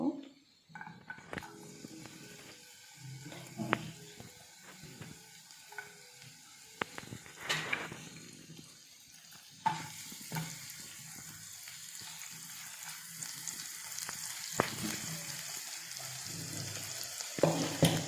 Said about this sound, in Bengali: তেলটা গরম হয়ে আসলে রসুন কুচি দিয়ে দিব